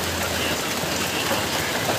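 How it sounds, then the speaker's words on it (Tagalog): Heavy rain pours onto a roof during a flooding afternoon downpour, a dense, steady hiss of drops that stays loud and unbroken throughout. "Antayin ka lang pahinain ulan."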